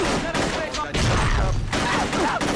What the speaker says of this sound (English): I hear glass shattering, I hear gunshots